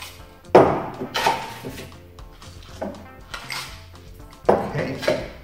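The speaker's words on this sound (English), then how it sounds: "And then we need some crushed ice." Crushed ice clatters into a glass for a Jägermeister cocktail in several sharp, loud bursts separated by pauses, with light clinks between them.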